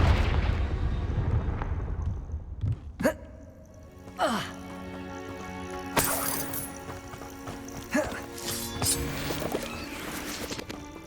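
Confringo, the explosive spell in Hogwarts Legacy, sets off several booming blasts during a fight with poachers, sharp impacts spread over the clip and mixed with rumbling battle noise and a voiced character.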